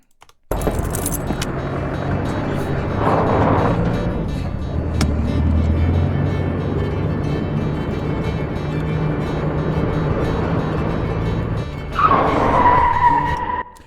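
Continuous roaring engines and skidding tires from a vintage car chase sound effect fill the scene, rising into a sharp tire squeal near the end, loud and close.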